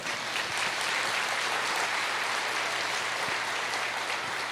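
A church congregation clapping in unison during a sermon, a dense, sustained wash of applause from many hands filling the room at steady volume, with no talking over it.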